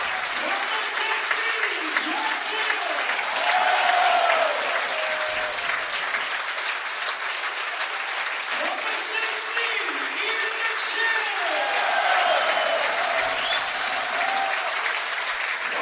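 A football crowd cheers and applauds for St Mirren player John Sutton at a Scottish Championship title celebration, a broad, steady roar of clapping and shouts that swells twice, with faint voices mixed in.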